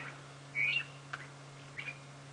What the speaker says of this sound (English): You can hear a drongo calling in the background